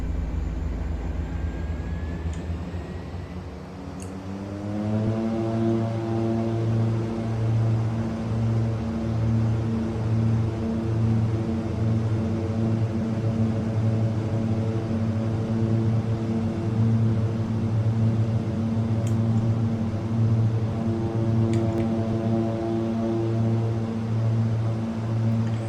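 Twin Pratt & Whitney turboprop engines of a Grumman G73AT Mallard in the FSX flight simulator spool up after a few seconds, then settle into a loud, steady, throbbing drone with a pulsing propeller beat that runs without pause.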